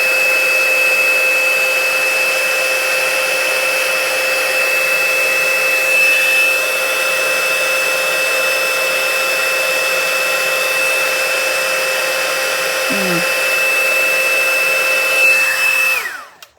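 Heat gun running on its highest setting melts gold embossing powder for a card, a loud constant fan whine with a steady tone that cuts off abruptly at the end.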